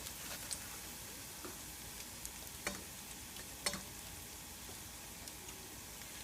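Oyster mushrooms shallow frying in oil on low heat give a steady, soft crackling sizzle, with scattered faint pops and light clicks throughout and no talk.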